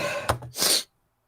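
A single short sneeze, a sharp intake followed by a bright burst, close and clear, ending abruptly in silence.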